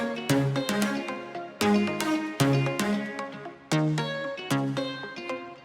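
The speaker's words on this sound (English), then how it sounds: "So together with this low octave pluck, it sounds like this." Layered synth plucks with a deep low-octave pluck beneath them play a bright, rhythmic melody, each note struck sharply and decaying, with no talking.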